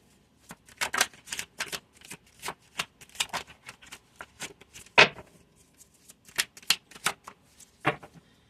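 Tarot cards are handled, shuffled and dropped: a string of crisp close papery flicks and slaps in irregular bursts, with one sharper slap standing out.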